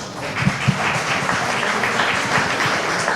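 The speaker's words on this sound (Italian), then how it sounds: "Un applauso." An audience applauds a poet at an Italian poetry recital, a dense, even patter of many hands clapping that holds steady throughout, fairly close with no voices on top.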